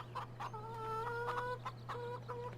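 Chickens cluck repeatedly in Farming Simulator 2013 on the Idaho farm map, with short broken calls over a steady low hum that runs through the whole clip.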